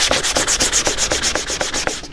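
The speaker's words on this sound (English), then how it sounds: "Sand that up, knock all the corners off." Rapid, rhythmic back-and-forth strokes with a sanding block on a wooden block scrape loudly and close up, about a dozen passes in quick succession with no voices.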